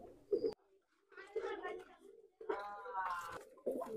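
Nildumma pigeons, males, females and young, give short bursts of throaty cooing close by, broken by brief pauses, with a voice faintly mixed in.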